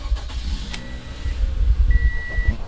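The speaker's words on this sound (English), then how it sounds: "When I start the car and I pull the gear to my side, you can hear the sound." A car fitted with hand controls starts up close by, its engine turning and running with mechanical clunks and a brief electronic beep.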